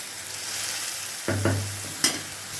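Masala paste of turmeric and salt with a little water sautés for a Bengali paneer curry, a soft steady sizzle broken by a few close scrapes and knocks of the spoon against the pan.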